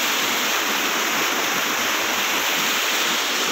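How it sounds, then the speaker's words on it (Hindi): Fast-flowing water in a canal where people are bathing, a loud, constant rushing roar with no breaks and no voices. "इतनी तेजी ना पानी आ रहा है कि मतलब बंदे दे पैर जमीन ते खलोंदे ही नहीं है"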